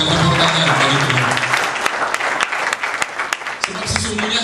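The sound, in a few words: congregation applause at Easter service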